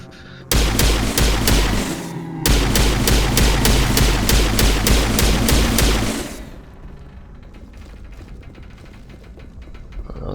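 Rapid pistol fire from an enemy in the Mass Effect video game, a dense loud burst of repeated shots lasting several seconds with a brief break, then fading to low ambient hum.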